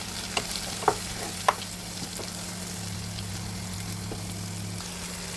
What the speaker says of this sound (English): We fry this onion till it is nice and translucent.